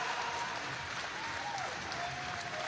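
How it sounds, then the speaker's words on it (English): Steady crowd applause fills a swimming championship arena after a race, a dense wash of clapping that holds at an even level, with a faint voice over the arena sound. "give him a big round of applause, London"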